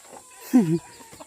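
A chicken gives a short, clear cluck up close, a single bright two-part call standing out over quiet outdoor background.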